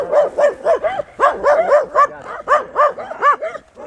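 A dog barks in a rapid, steady run of about a dozen loud, close barks in a rural village yard, with no voices over them.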